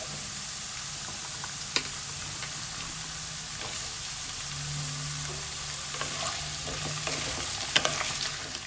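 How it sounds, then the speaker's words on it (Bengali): Potatoes and carrots fry in a pan with a steady, close hiss of oil for a mixed vegetable dish, and the occasional scrape and clink of a spoon stirring them. "আলুটা কিছুক্ষণ ভেজে নিই। এবার আমি এর মধ্যে গাজরটাও দিয়ে দিচ্ছি।"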